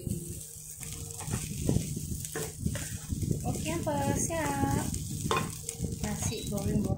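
Broccoli fried rice (nasi goreng brokoli) being stirred in a hot pan, with a steady close sizzle and repeated scraping and clinking of the utensil against the metal; people talk over the cooking.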